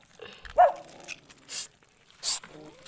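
A dog that has slipped its leash barks and growls in short bursts close by, with a person talking underneath.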